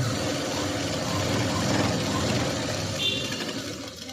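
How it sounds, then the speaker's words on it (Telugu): A sewing machine stitches a V-neck blouse piece onto its lining, giving a steady close motor hum with a soft rapid needle patter that eases slightly near the end. No voices are present. "పీస్ని కూడా లైనింగ్ మీదకి స్టిచ్ అనేది వేసుకోవాలి"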